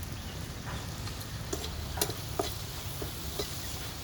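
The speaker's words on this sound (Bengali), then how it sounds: "আর একটু ভাজা হোক মশলাটা।" Spice masala fries and is stirred in a pan for a toor dal and fish dish, giving a steady low sizzle with a few light scrapes and taps of the spoon, close and fairly quiet, with no talking.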